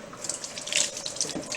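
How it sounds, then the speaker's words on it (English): Tap water runs into a sink and over a metal knife, a steady splashing stream with brief brighter spatters from the blade, close by and alone. "take a metal knife and run it under water"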